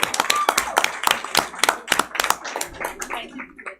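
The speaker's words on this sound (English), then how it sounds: "Let's give them a round of applause." A small audience claps for participants in a reading program at a school governing board meeting, with irregular, fairly close hand claps. The claps come in uneven bursts and thin out toward the end.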